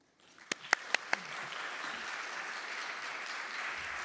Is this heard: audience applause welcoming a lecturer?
yes